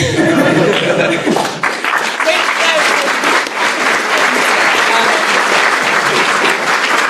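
Loud, sustained applause fills a closing-remarks session at the Securi-Tay 2019 security conference at Abertay University, a dense wash of many hands clapping with some chuckles and voices mixed in throughout.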